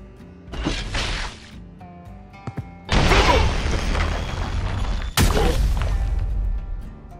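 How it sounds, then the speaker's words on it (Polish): Two heavy, booming blasts from a Valorant explosion through a wall, each a loud muffled burst with a long crackling rumble tail, separated by a short pause. "Po krótkiej chwili po drugiej stronie ściany następuje eksplozja,"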